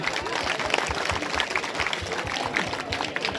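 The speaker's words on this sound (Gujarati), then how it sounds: "એક તો તાળી વગાડી દઈએ બંને માટે" A crowd at a Gamit wedding claps for the newly married couple, a dense burst of applause that carries steadily throughout, with voices murmuring underneath.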